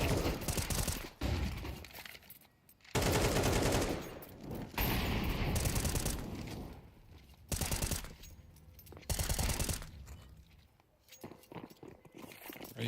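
Bursts of rapid gunfire from a competitive Counter-Strike style match at the PGL Cluj-Napoca event, loud automatic volleys breaking off into short pauses and softer crunchy clatter between them.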